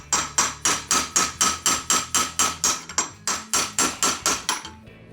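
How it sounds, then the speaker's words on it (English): Steady, rapid hammer blows on a chisel against Porsche 914 brake parts, about sixteen sharp metallic strikes in an even rhythm with a brief pause midway, loud and close with no talking. "Chisel keeps slipping"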